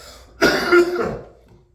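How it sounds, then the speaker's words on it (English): A single harsh cough from someone recovering from a cold bursts out close by, roughly a second long, with a short rough tail and no talking around it. "I'm going to be coughing throughout this whole video"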